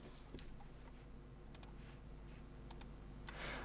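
Computer keyboard keys clicked in a few sparse, quick bursts, faint against a steady background hum.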